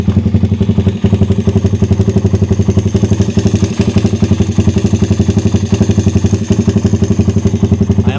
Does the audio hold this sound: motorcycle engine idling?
yes